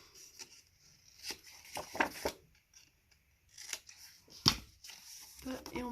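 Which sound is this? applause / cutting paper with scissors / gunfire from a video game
cutting paper with scissors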